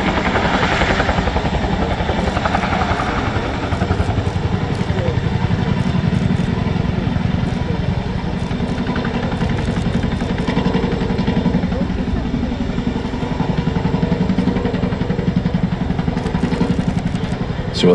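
Twin-rotor Chinook helicopter hovering at an air tattoo during a gun drop, a loud continuous rotor thud and turbine roar that holds steady and close throughout, with no break in the sound.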